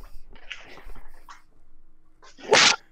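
A dog makes a few soft, short whimpering noises, then gives one sharp, loud snort or bark near the end, close by, with quiet gaps between the sounds.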